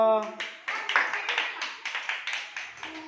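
Rhythmic hand clapping, about a dozen crisp claps in an even beat, heard close together with a voice speaking over the first part.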